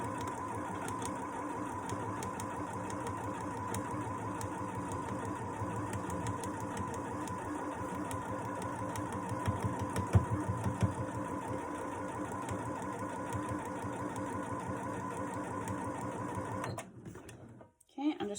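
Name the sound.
sewing machine stitching a baby blanket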